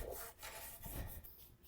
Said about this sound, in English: So I'm just gonna slide this in and out a bunch, spray a bunch of brake clean in here, try to get all of this mud and gunk and nasty stuff out